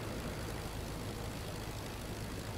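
The Albatross D.II biplane's engine in the flight game Rise of Flight drones steadily and without a break, a constant, even rumble with no voices over it.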